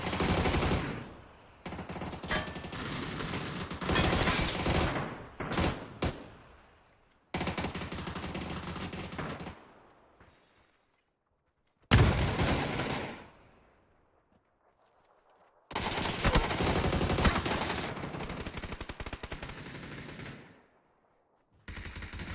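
Automatic gunfire in the battle-royale game PUBG comes in several loud bursts of rapid shots with silent gaps between them, and one sharp single report stands out near the middle.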